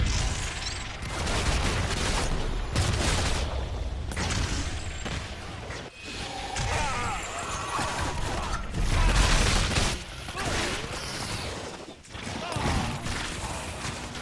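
Video game combat with bursts of gunfire, mechanical clatter and crashes, dense and loud throughout with a few brief dips, and a voice talking over parts of it.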